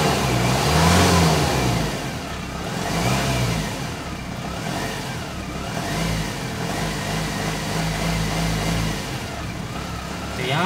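A Mahindra Scorpio pickup with a reported pickup problem revs repeatedly while accelerating, its mid-pitched engine note swelling and falling in several close waves over a steady running hum.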